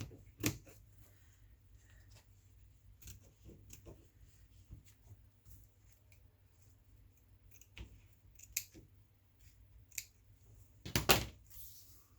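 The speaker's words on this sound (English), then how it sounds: "I'm just going to cut a piece out" Scissors cutting a piece of paper for a handmade journal folio: a series of sharp, close snips and crisp clicks spaced irregularly over quiet, with a louder cluster of cuts near the end.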